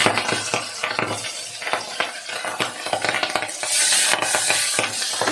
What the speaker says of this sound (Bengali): এবার মাছটা ভাজবো, তার জন্য এখানে একটা কড়াই বসিয়েছি। কড়াইয়ের মধ্যে সর্ষের তেল দিয়ে দিয়েছি।